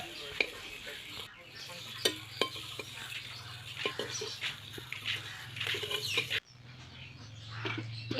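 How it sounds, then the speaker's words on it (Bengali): Boiled duck eggs fry in oil in a wok with a faint sizzle. A few sharp utensil knocks and stirring scrapes sound close by, with a low hum in the background. "কড়াইয়ের মধ্যে আরেকটু পরিমাণে তেল দিয়ে এবার আমি সেই তেলের মধ্যে ডিমটাকেও ভেজে নেব"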